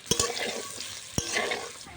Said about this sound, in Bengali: হলুদ দিয়ে দেবো আলু ভাজার ভিতর।